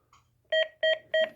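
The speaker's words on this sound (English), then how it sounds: "The regular button beeps on the 500 sound just, well, they sound similar to the 100's invalid button beeps." Button presses on a Uniden Bearcat WX500 weather radio give three short, sharp electronic beeps in quick, even succession, clear and close with a faint click just before them.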